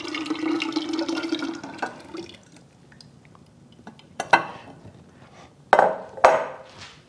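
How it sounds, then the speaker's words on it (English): Water runs briefly as a jar of fallen-apple vinegar is rinsed off at the top, then stops. A few sharp glassy clinks and taps follow in near silence. "I'm going to just rinse off some of this other stuff at the top."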